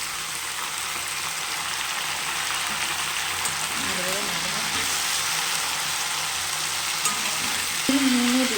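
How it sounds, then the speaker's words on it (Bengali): Cauliflower florets frying in oil in a home kitchen pan, a steady hissing sizzle that runs the whole time, with brief clatters and stirring noises near the middle and a sharper burst at the end. "এবার আমি ফুলকপিগুলো দিয়ে দেবো। ফুলকপিগুলো ভালোভাবে ভেজে নেবো।"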